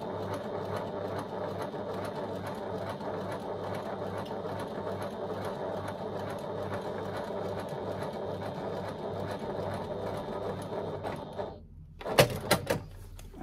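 A sewing machine top-stitches straps onto faux leather in a steady, even run of rapid needle clatter for about eleven seconds, then stops, followed by a few brief knocks.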